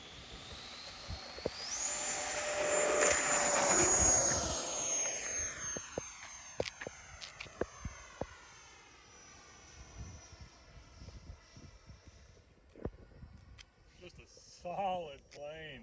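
An E-Flite 90mm Viper Jet RC model jet roars past on its maiden flight with a rising whine that swells close and loud, then fades into the distance over faint outdoor ambience.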